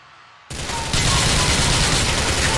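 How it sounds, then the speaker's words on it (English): Gunfire exchange in the video game GTA IV: after a quiet moment, loud rapid automatic fire erupts and keeps going, getting heavier and denser as both sides shoot blindly at each other. "We're just shooting blindly at each other."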